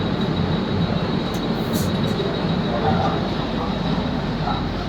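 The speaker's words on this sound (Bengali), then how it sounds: "আমাদের তেজাস রাজধানী এই মুহূর্তে এসে বরিভালি স্টেশনে পৌঁছেছে" Tejas Rajdhani Express at Borivali station platform, heard as a steady broadband rumble with a thin high whine, loud and continuous throughout.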